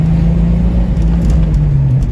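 A Jeep XJ Cherokee with a bucking and stalling problem drives on a test run, a loud, close interior engine drone and road rumble with a steady low hum.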